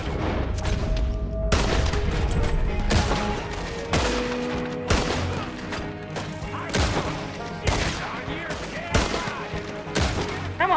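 Shots ring out during a gunfight in the video game Red Dead Redemption 2. Loud single blasts repeat at irregular intervals, each followed by a ringing echo and tail.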